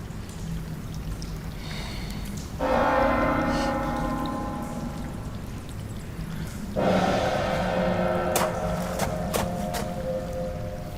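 A night watchman's gong is struck twice a few seconds apart, each hit blooming into a bright, shimmering ring that slowly fades over a low murky background.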